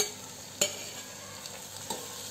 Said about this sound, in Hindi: अब इसमें डालेंगे मीडियम साइज के 2 टमाटर बारीक चॉप किए हुए